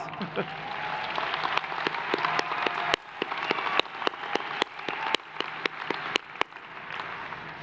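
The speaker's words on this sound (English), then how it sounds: "Give them a big wave, a big smile, and a big round of applause." Scattered, fairly faint applause from a university commencement audience, with sharp isolated claps popping out over a thin crowd wash.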